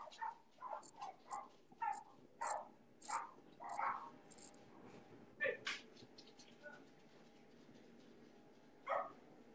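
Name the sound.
dogs barking and whimpering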